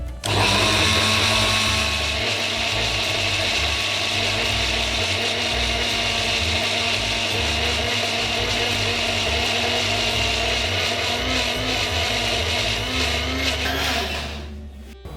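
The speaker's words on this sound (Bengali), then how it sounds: "মিক্সারের জারের মধ্যে আমি দিয়েছি নারকেল, পোস্ত, কাঁচা লঙ্কা আর একটু জল।" A mixer grinder blends coconut, poppy seeds, green chili and a little water in a loud, continuous whine that runs nearly unbroken for about fourteen seconds before cutting off.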